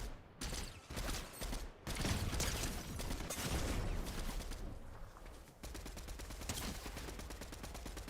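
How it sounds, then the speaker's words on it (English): Rapid bursts of sniper rifle and automatic gunfire in a video game, dense and continuous with mechanical clatter, loud and close throughout with no speech. "that's a sniper rifle right there"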